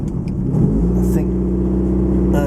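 A Lotus Excel engine idles steadily while warming up, a continuous mid-pitched rumble with a brief rev near the start, close and loud throughout, with faint voices under it.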